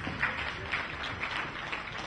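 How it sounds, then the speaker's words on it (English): Audience applause at a Nigerian closing event for a change coalition, a steady wash of many hands clapping with no voices on top, fairly quiet and even throughout. "Please, can we give them all a round of applause, please?"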